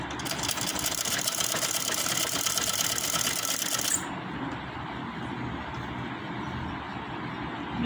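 Sewing machine running a straight seam on capri trousers, a steady fast mechanical whir that stays constant throughout, its bright upper clatter dropping away halfway while the motor keeps humming.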